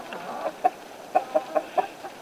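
Roosters cluck in a series of short, clipped calls at close range, several in quick succession with no talking.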